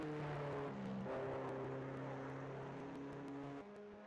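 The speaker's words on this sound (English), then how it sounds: "You can hear the engine roar as a downshift through the gears in the braking zone." An LMP2 race car in a racing video game at Silverstone, its engine giving a steady high-pitched whine that drops in steps as it downshifts into a braking zone, fairly faint and with no voices.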